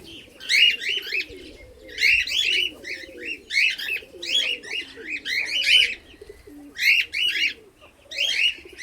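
A myna chick calls repeatedly and loudly up close, a series of harsh, raspy chirping bursts in an uneven rhythm with brief pauses between them.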